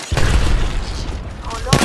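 A frag grenade explodes in the video game Apex Legends as a loud, booming blast with a short rumbling tail, overlapped by a player's voice.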